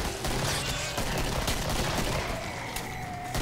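Rapid pistol gunfire in the Killing Floor video game comes as a dense, loud volley of shots over busy game noise.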